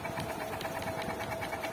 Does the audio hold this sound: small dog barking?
no